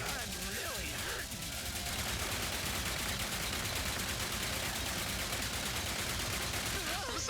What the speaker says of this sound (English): Keep firing, Ratchet.